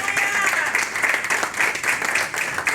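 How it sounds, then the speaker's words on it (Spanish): A church congregation claps continuously through a Sunday morning service, a dense, moderately loud wash of many hands with no talking over it. "¿Puede darle un aplauso en esta mañana al Señor?"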